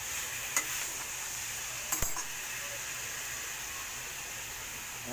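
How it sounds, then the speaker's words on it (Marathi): Chicken frying in a pan while being stirred, a steady broadband sizzle with a couple of brief scrape or clink accents from the stirring, continuous and fairly close with no voices. "एकदम मस्तपैकी असं हलवून एकदम फ्राय केले जात आहे।"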